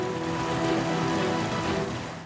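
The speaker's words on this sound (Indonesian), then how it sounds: "Banjir lahar hujan Gunung Semeru terjadi setelah puncak Gunung Semeru diguyur hujan deras selama kurang lebih 3 jam" Heavy rain pours down steadily on Mount Semeru in Indonesia, a dense continuous hiss with a faint underlying tonal hum throughout the short stretch.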